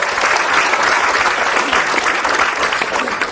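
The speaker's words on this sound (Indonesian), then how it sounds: "Buat tepuk tangan buat Ustaz Febri." A studio audience at an Indonesian Islamic talk show claps steadily and loudly throughout, a dense, even wash of applause with no pauses.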